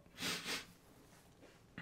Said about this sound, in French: Mais je renifle un peu.